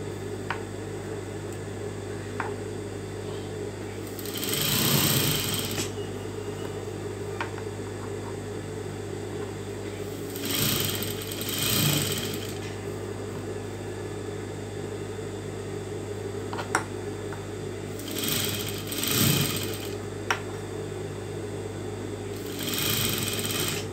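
A sewing machine stitches piping onto a saree blouse in several separate bursts of steady, close, loud whirring, with a constant motor hum and quiet gaps between runs.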